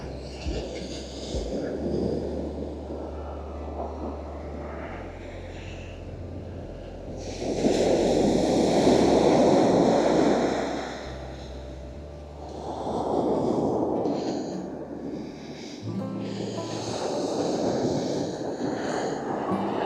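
Waves washing onto a shore in France, swelling rushes of surf rising and fading in slow surges, with wind buffeting the microphone between them.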